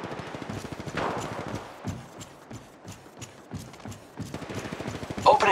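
Gunfire in the mobile shooter Apex Legends Mobile: bursts of rapid automatic shots come in clusters with short pauses between them, fairly close and loud over game ambience.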